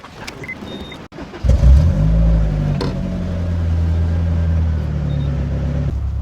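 Honda S2000 AP2 engine starting up after a brief quiet, then settling into a loud, steady idle close by with no talking.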